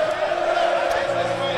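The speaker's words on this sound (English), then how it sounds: "the crowd is jeering. The crowd is jeering" Dense crowd noise at a presidential inauguration, with a large gathering cheering and singing a traditional cheer song. The roar stays continuous and loud, with voices blending into a steady swell and tonal singing lines coming through.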